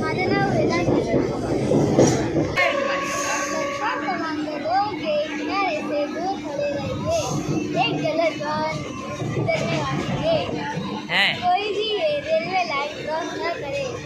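A moving commuter train rumbles and rattles steadily around the listener inside the carriage, while children talk and shout loudly over the running noise throughout.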